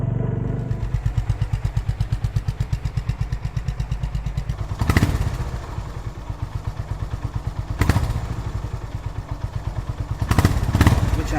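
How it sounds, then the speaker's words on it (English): A Honda CB350RS motorcycle engine runs steadily close by, its raspy exhaust throbbing in a fast even pulse, with a few louder revving swells and clattering bursts along the way. "an unforgettable soundtrack with that raspy, head-turning exhaust note"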